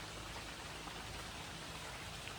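Rain pours steadily in an outdoor setting, a dense, even hiss throughout with no gaps and no voices.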